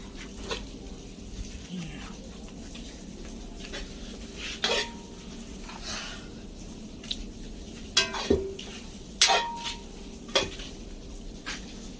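Goat meat cooking in a pot, with scattered metal clinks and scrapes of a spoon stirring against the pot over a steady low background hum, the knocks growing more frequent toward the end.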